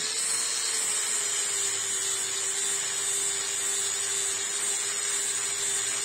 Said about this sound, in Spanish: con la caladora cortamos las dos tablas iguales